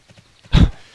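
Horse hooves in the video game Tera, heard as one loud, close burst of clip-clopping hoofbeats in the middle, with quiet before and after and no talking.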